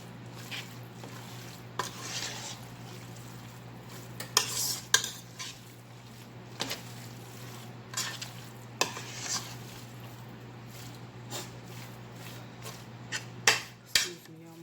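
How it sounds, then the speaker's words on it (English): A spoon scrapes and clinks against a bowl while stirring a deviled crab mixture, with intermittent clatters over a steady low hum. "You see, I am stirring from the bottom."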